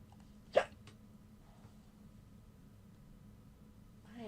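A single sharp hiccup stands out near the start, loud and brief, then gives way to a quiet room with faint background hum during a live trading session.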